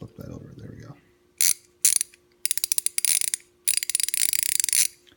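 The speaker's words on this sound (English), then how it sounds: "90 tooth Cobalt ratchets" Rapid ratcheting clicks from 90-tooth Cobalt ratchet wrenches, 3/8 and 1/4 inch drive, in short bursts of fine, fast ticking after a low murmur at the start, close and crisp.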